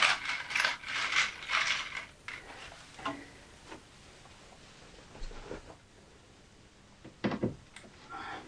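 Screw being driven into a slightly warped wood board during a camping-gear storage build, heard as a few close ratcheting, grinding bursts early on, then quieter scattered clicks and a sharp knock near the end, with no talk.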